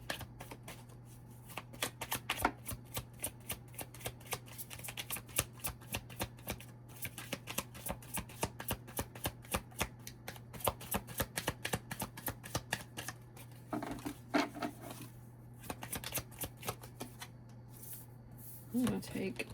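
A deck of tarot cards is shuffled steadily by hand, close and fairly quiet, as rapid riffling flicks and soft card slaps continue over a faint constant hum.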